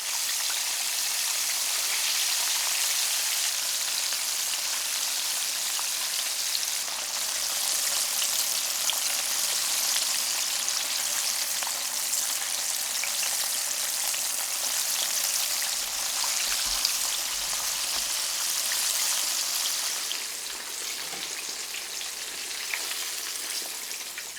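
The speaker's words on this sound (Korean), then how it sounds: "다시 튀길 때는 2분 정도 튀겨낸다" Continuous dense sizzling and crackling of chicken frying in oil during the second fry, steady and close throughout with no voices.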